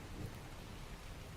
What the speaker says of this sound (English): right now it's just rain background